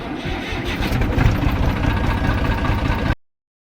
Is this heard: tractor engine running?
yes